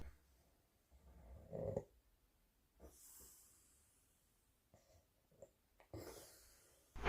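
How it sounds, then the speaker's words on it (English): A sleeping man snores in the background with irregular soft snorts and breathy rasps, faint and intermittent, separated by quiet stretches. "Her man is snoring in the background."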